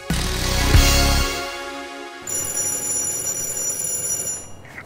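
A telephone rings in a small workshop where a monowheel bike is being built, starting around the two-second mark with a steady, bright electronic trill that keeps going to the end after a louder low rumble fades.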